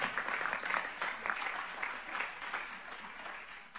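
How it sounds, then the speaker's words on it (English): An audience at an international summit at the United Nations in New York applauds Lola Velarde, steady moderately faint clapping heard from a distance throughout, with no speech over it. "So I want everyone to give her another round of applause."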